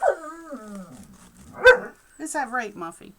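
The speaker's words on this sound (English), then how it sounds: "that's my dog talking because she hears one of her favorite commercials" A pet dog named Muffy lets out drawn-out, whining, talking-style yowls while a TV commercial plays in another room. A person briefly speaks to her between the sounds.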